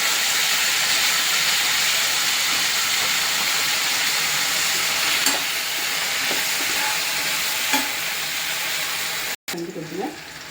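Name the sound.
soy sauce sizzling as it is added to the hot pan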